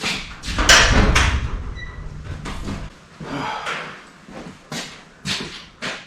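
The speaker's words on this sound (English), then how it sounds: "open the door so I won't suffocate myself" A workshop door is pulled open with a sliding rumble and clunk before starting a Yamaha XS650 motorcycle engine, followed by quieter rattles and shuffling movement.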